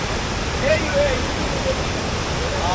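A dense, constant rush of water from the full Savatkada waterfall at Chunakolvan, Konkan, fills the scene close by, with a faint tonal voice or whistle briefly rising over the roar.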